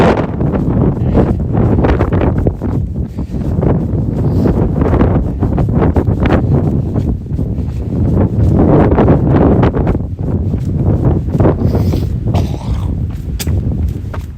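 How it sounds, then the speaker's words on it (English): Strong, steady wind gusts roar and buffet the microphone on a mountain trail. The blast is loud and continuous, and no voice is heard. "the wind is like, thank you, we'll take that hat right off your head"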